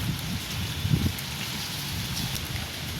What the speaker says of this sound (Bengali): দারুণ বৃষ্টিটাও কিন্তু খুব জোরে হয়েছে